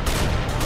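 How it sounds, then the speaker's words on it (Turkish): Gunfire in a Minecraft game, a brief dense burst of loud, close shots filling the whole short moment with no talking. "Direkt silahla vuruyorum dostlarım, bekleyin."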